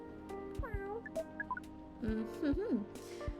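A small cat meows in the video game Coffee Talk. Several short, rising and falling meows come in quick succession over a steady soft background, with a second cluster of longer, wavering meows near the end.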